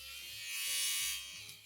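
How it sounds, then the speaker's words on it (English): An electric fabric shaver hums steadily as it de-pills a wool sweater, a close continuous buzz that swells slightly in the middle of the pass. "Now the next step for me is to de-pill it, and I'm going to use this fabric shaver for it."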